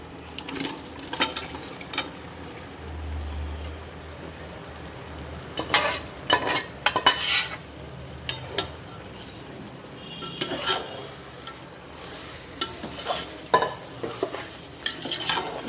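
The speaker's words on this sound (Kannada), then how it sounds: "ಈಗ ಬೇಯಿಸ್ಕೊಂಡಿರೋಂಥ ಮಟನ್ನು ಈ ಖಾರಕ್ಕೆ ಹಾಕ್ತಾಯಿದ್ದೀನಿ." Cooked mutton being stirred into spicy ground masala in a pan for mutton pulao, with a steady low sizzle under repeated scraping strokes and metallic clinks of a spoon against the pot, close up and without speech.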